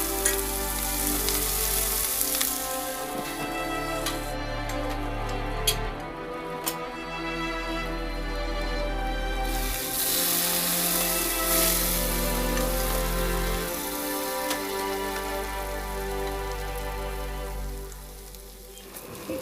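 Green chillies with ginger and garlic sizzle and spit steadily in hot oil in a pan, a loud continuous frying crackle that swells at moments, with no voices.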